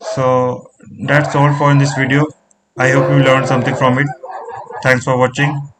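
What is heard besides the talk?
No everyday noises stand out.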